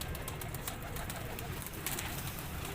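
Pigeons of a fine breed kept on a third-floor rooftop coo softly, a faint, low murmur of calls heard at a distance against a steady background hiss.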